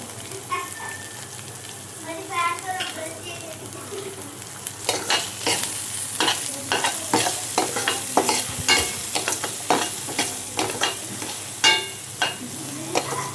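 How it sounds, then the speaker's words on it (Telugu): Spicy corn-on-the-cob snack pieces fry in oil under a steady sizzle, while a utensil stirs and clanks against the pan in quick, repeated strokes that grow busier partway through. "ఆయిల్లో ఫ్రై చేసుకోవాలి"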